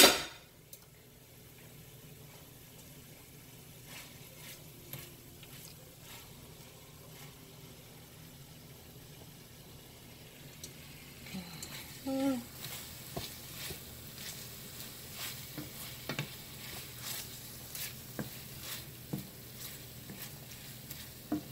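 Sausage sizzles in a pot while paella is cooked, a faint steady hiss that grows busier midway with stirring and scattered close clinks and pops.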